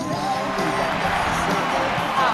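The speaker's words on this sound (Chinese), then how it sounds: "来点尖叫声好不好？" Crowd cheering and whooping at an outdoor square dance birthday celebration, a steady lively roar of voices with scattered shouts filling the whole stretch.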